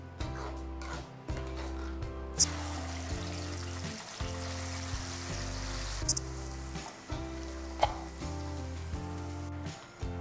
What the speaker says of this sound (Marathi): आता हा जो मसाला आहे तो छानपैकी आपण आता तेलात भाजून घेऊया.